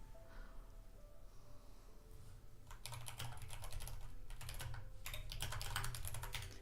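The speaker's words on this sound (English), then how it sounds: "enjoy the sounds of me tappy typing" Rapid, close clattering keystrokes on a computer keyboard, starting sparse and building into dense bursts of tapping with a short pause midway, over a faint low room hum.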